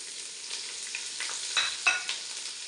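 Onion, slit green chillies, chopped garlic and capsicum stirred in a frying pan, a steady close sizzle with a few scraping stirs standing out near the end; no talking.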